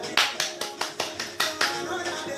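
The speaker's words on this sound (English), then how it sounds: "Clap your hands." Sharp hand claps ring out in an even rhythm, about eight crisp beats over two seconds, loud and close as if from a small group clapping in unison at a live show.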